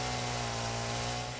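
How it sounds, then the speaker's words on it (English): A chainsaw revs in the video game Satisfactory, a steady, loud, buzzing motor drone that holds without a break from start to finish. "I wanted to take a chainsaw for a rip"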